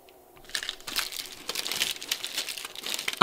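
Crispy creamy wafer chocolate bar with a double wrapper being unwrapped up close, a run of sharp irregular plastic crinkles and rustles that grow busier after a quiet start, with no talk.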